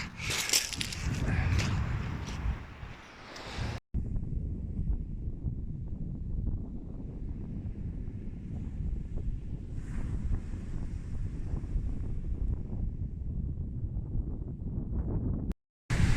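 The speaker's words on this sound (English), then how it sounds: "I've got the wind smacking my face, hope this mic's coping with it." Strong wind buffets the microphone on Slapton Beach in October, a loud, continuous low rumble with gusty bursts and a hint of surf behind, briefly cutting out before resuming.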